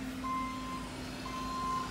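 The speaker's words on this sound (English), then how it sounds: "Here we've got the truck full of" A gravel-laden truck reverses on a rural French property for septic trench work, its backup alarm sounding two long, steady beeps over a low idling engine hum.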